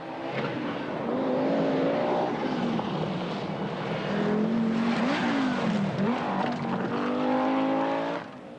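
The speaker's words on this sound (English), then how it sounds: "As the cars cross the new Keswick Bridge" Rally cars from the 1983 Scottish Rally cross the new Keswick Bridge on a gravel stage, their engines droning loudly and steadily with rising and falling revs as they pass, then fading slightly at the end.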